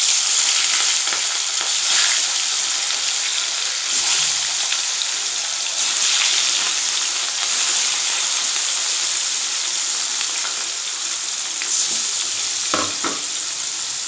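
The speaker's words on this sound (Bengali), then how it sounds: "মাছগুলো তাহলে বন্ধুরা ভেজে নিই।" Fish rubbed with salt and turmeric frying in hot oil, a steady close sizzle and crackle holding throughout with occasional sharper spits and pops.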